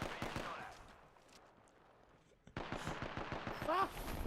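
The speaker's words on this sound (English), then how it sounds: "I got sniped from like forever away." Rapid gunfire cracks in a shooter video game, a burst of shots early on, then after a quiet gap a long run of quick repeated shots, with a player talking over it.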